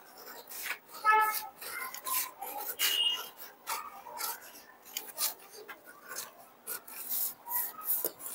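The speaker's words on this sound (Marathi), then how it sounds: "इथे सगळ्यात अगोदर आपल्याला इथे एक पट्टीची कटिंग करून घ्यायची आहे." A paper strip being cut for a katori blouse pattern gives a close, irregular run of crisp rasping and scraping strokes at a steady level, without speech.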